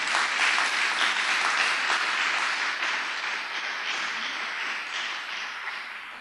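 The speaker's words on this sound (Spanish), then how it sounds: "démosle fuerte ese aplauso al Señor" A church congregation breaks into strong, sustained applause for the Lord, a dense crowd of clapping hands that stays loud and then eases slightly toward the end, with no speech.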